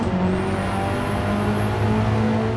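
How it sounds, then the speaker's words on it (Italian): DTM race car in Gran Turismo 7, its engine roaring loud and close, with a sustained high tone that climbs through the revs and then drops slightly, heard alone. "bisogna sentire il motore ruggire"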